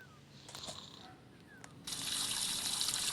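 Shower water runs in a home bathroom at 3 AM, starting as a soft trickle with a few faint taps, then opening into a steady, close hiss of spray for the rest of the moment.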